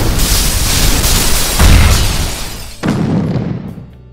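Bomb explosion sound effect in a children's film club film, a loud booming blast with a heavy rumbling low end, then a second burst that trails off into quiet.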